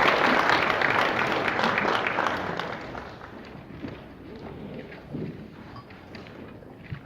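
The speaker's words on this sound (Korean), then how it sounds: "박수로 맞이해 주시기 바랍니다." An audience at a company investor-relations briefing applauds to welcome a speaker, dense clapping that starts loud and gradually thins and fades over several seconds.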